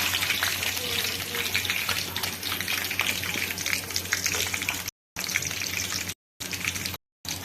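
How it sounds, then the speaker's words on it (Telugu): Green chillies sizzle steadily in hot oil in a kadai, a loud continuous crackling fry that stays close and dense, with a few short breaks near the end and no talking. "ఆయిల్ వేడైన తర్వాత ఒక 4 పచ్చిమిర్చి కట్ చేసుకొని వేసుకోవాలి"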